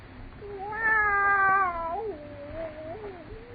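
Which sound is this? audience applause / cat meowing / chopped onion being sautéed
cat meowing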